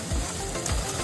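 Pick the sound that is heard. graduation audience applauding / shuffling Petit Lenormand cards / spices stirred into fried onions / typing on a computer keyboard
spices stirred into fried onions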